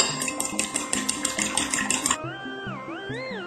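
A fork beats two cracked eggs in a microwave-safe bowl, a quick run of rhythmic clinks against the bowl for about two seconds, followed by a short melodic music sting.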